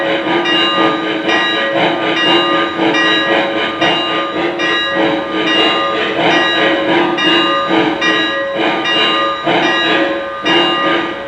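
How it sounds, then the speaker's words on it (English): A Lionel Legacy EM-1 2-8-8-4 model steam locomotive decelerates as if entering a yard, its chuffing and mechanical rumble continuous and loud while the ringing locomotive bell repeats steadily throughout. "We're going to slow the locomotive down as if we're bringing it into the yard."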